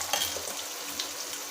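Spices and chili powder sauté in a hot pan for bottle gourd biryani, a steady close sizzle with faint stirring scrapes and no talking.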